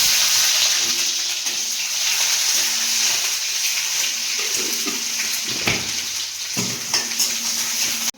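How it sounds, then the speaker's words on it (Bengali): Chopped onions sizzle in a hot wok (kadai) with dried chillies for a fish-head and tomato curry, giving a steady, close frying hiss with a few light clinks, and no talking. "আর এদিকে কড়াইতে দিয়ে দেবো পেঁয়াজ কুচি।"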